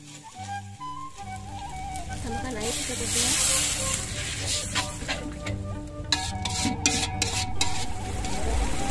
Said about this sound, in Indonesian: Bumbu yang sudah dihaluskan ditumis dulu.